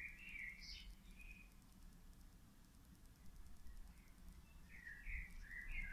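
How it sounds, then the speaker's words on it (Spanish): Faint bird chirps and short tweets come from a distance at the start and again near the end, over a quiet outdoor hush on a sunny terrace. "estoy escuchando también los pájaros"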